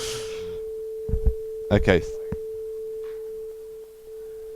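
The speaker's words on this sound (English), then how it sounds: "Can people hear a sine wave?" A steady pure tone hums continuously at a moderate level throughout, while a person speaks briefly over it and small knocks sound.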